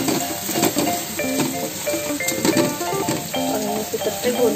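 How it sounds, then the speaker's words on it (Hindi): Chopped garlic and a green chili frying in a pan for matar paneer, a close, busy sizzle with spoon scrapes and metallic clinks against the pan, loud and steady throughout. "साथ में डाल देंगे लहसुन कटा हुआ और ये एक हरी मिर्च, ये साथ में डाल दिया ताकि भून जाए"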